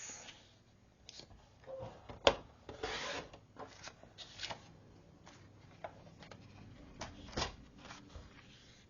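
Paper for scrapbook base pages is cut and handled close up, faint scraping strokes and rustles in irregular bursts with short pauses, one sharper snip partway through.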